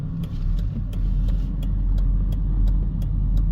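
A car on a street beside a high school in East Las Vegas gives a steady, close low engine and road rumble with regular faint ticking, and no voices.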